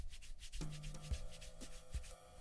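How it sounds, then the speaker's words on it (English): Backs of fingers rubbed together while hand washing, giving short, close, dry rubbing strokes in a quick rhythm over a couple of seconds. "Rub back of fingers with fingers interlocked."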